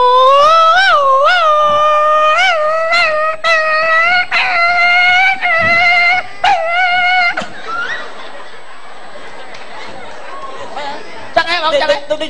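A dog lets out a run of rising, wavering howls and yelps, loud and close, which then trail off into chatter and laughter.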